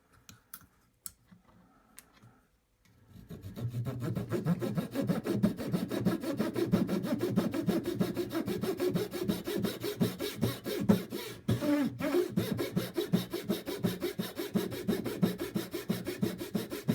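A fine hand saw cuts through a small part for a Yamato battleship scale model, starting after a few quiet clicks and continuing as a rapid, steady rasping back-and-forth stroke close by.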